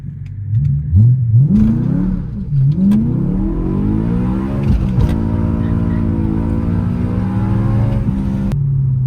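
A 17-year-old BMW E92 M3 makes a soft launch with its tires spinning. The loud, close engine revs and rises in pitch with a couple of shifts and dips, and the harmonic engine note climbs steadily over about nine seconds.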